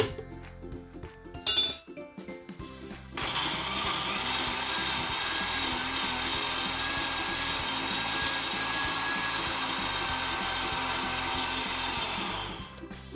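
An electric grinder runs steadily for about ten seconds while grinding rice for phirni, a creamy rice pudding, starting after a few light clinks and a brief bang and sounding loud and even before it cuts off.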